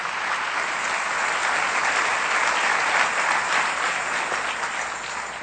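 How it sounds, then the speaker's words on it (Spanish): A church congregation applauds during a sermon service: steady, loud, dense clapping that holds evenly throughout, with no voices standing out. "Le da un aplauso bien fuerte al Rey bendito."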